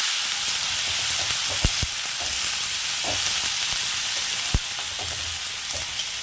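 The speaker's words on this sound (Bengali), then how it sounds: "এটাকে সুন্দর করে আমাদেরকে একটু ভেজে নিতে হবে। পেঁয়াজটাকে ভেজে নেব।" Chopped onions fry in a pan with a steady bright sizzle, broken by a few sharp utensil taps and stirring sounds.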